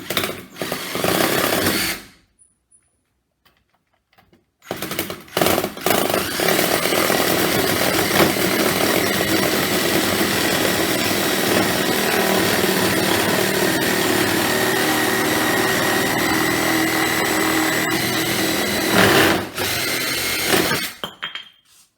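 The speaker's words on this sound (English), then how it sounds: "Cut it right on the line." A power saw cuts wood to make a trench club: a loud, continuous high whine in two bursts separated by a short silence, with the long second cut running almost unbroken before it stops and restarts briefly.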